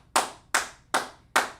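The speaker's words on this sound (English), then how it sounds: "let's clap it up for those answers" Four sharp, evenly spaced hand claps ring out alone, loud and close, each one decaying quickly before the next.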